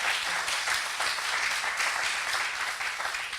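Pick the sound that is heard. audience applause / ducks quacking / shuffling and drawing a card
audience applause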